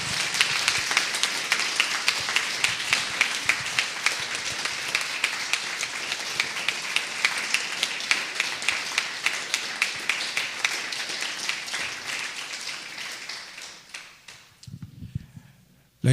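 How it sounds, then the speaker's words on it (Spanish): Church congregation applauding at a Spanish-language service, a rhythmic, near-unison clapping that pulses steadily and loudly for many seconds, then thins out and fades near the end. "¿Cuánto le quieren dar un fuerte aplauso a Jesús?"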